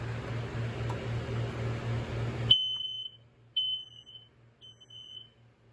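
A hardwired photoelectric smoke alarm sounds in loud, piercing beeps, starting over a steady hum, then three separate shrill beeps ringing out alone with short gaps.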